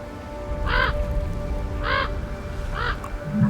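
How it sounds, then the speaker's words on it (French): A crow gives three harsh, evenly spaced caws at moderate distance over a steady background hiss, followed by a faint low thump. "C'est peut-être pas le même, mais bon, c'est bien, tous les corbeaux se ressemblent. Et il croasse."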